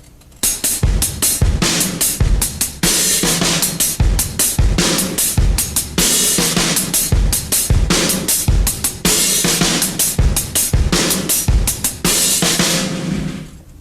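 Drum kit playing a slow linear metal groove, kick and snare alternating in separate hits with an open hi-hat washing on each fourth beat, loud and close, repeating steadily.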